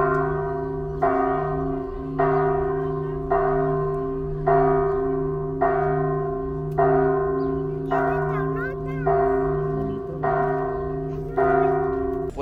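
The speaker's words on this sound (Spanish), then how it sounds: "Escuchen las campanas" Church bells ring out in a slow, regular series of strikes, each note sustaining and fading before the next, with occasional faint voices.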